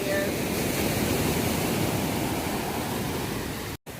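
Ocean waves wash steadily onto the sand at Kaputaş Beach in Turkey, a dense, continuous roar of surf with some wind rumble, loud and close, cutting out abruptly near the end.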